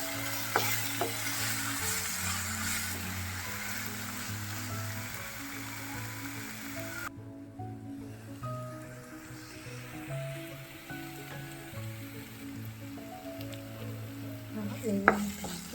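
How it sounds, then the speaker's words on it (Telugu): Ginger garlic paste fries on low heat in a pan for a Telugu paneer gravy, making a steady close sizzle under repeated stirring and scraping, with a brief quieter moment partway through. "కొంచెం అల్లం వెల్లుల్లి పేస్ట్ లైట్గా వేసుకోవాలి."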